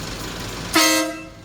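A 2023 Nissan Navara pickup sounds one short, loud horn blast close by, cutting in after a steady background hum and then fading.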